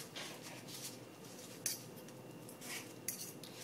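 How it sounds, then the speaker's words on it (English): A knife cutting a veggie sausage patty into small bite-sized chunks for breakfast tacos, with two light clinks against a plate over a faint, steady background; no one speaks. "next I will cut up my veggie sausage patty"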